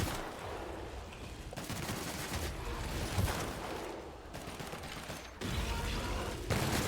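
Sustained gunfire in the sci-fi role-playing game The Outer Worlds, dense rapid mechanical shots in long continuous bursts with brief breaks, loud and close, with no talking.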